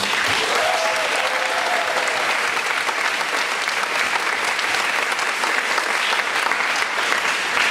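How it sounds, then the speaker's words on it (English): Steady, dense applause from an audience at a Pink Dot ambassador and campaign video launch event, continuous and fairly loud throughout with no voices standing out. "so please give them a round of applause."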